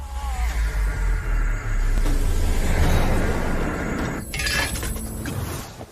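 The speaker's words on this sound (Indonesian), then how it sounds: "Pada akhirnya tinju Pu Xincheng mendarat di topeng pria itu, membuat topengnya hancur." A mask shatters under a punch in a martial arts fight, a loud cracking burst over rumbling low-end impact and dramatic music, with bright breaking debris flaring near the end.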